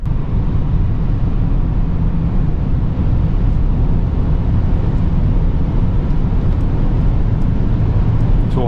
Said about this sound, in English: since we are driving the EQS SUV, we have a lot of wind noises